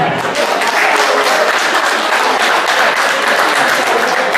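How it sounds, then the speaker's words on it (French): Audience applause for the winners of a Paris event, loud sustained clapping from a large crowd that holds at an even level across the whole stretch without pause. "Et on peut encore les applaudir."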